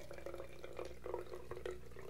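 Liquid pours in a steady, fairly quiet trickle with faint gurgles as it fills a small spray bottle.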